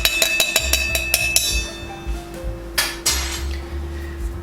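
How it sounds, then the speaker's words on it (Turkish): Ice and a bar spoon clinking rhythmically against a glass while a gin, ginger and grapefruit cocktail is stirred, a quick run of bright metallic taps followed by a softer rattle and a brief jingle of ice. "Şöyle onu tekrar karıştırıyorum."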